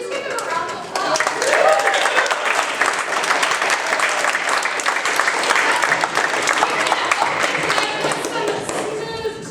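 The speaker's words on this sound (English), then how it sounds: "Please give them a round of applause." An audience at an improv show breaks into loud, sustained applause that swells after a brief opening and holds steady, dense clapping from a crowd filling the room.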